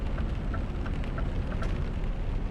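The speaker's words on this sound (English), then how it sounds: "the thunder's just started." Steady, heavy rain hiss with a low rumble of thunder underneath in Euro Truck Simulator 2, loud and continuous, with faint patter of drops and no voices.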